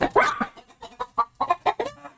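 Chickens cluck close by in a rapid series of short, punchy calls with brief gaps, loud and without talk.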